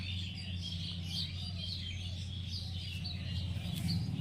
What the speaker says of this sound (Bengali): ওই যে জোড়া শালিক বসে আছে।